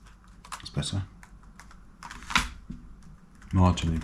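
Keys clatter on the keyboard of an IBM ThinkPad 600E laptop, scattered uneven presses and taps close by, mixed with handling noises and brief talk.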